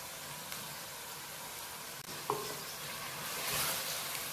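Mustard greens with chili crush and kasuri methi sizzle faintly in a pan while being mixed, with a soft steady hiss and one brief scrape of the utensil.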